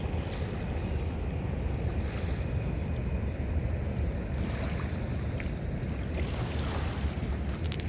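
Water laps steadily against the stony Hudson River shore, a continuous, fairly loud wash of small waves mixed with wind rumble and no speech.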